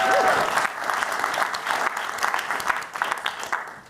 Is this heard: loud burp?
no